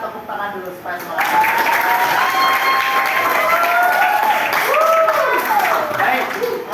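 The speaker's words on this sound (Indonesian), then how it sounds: "kita tepuk tangan dulu supaya semangat." A class claps together after an ice-breaking activity, a lively burst of applause mixed with excited voices and cheering that swells after the first second and stays loud.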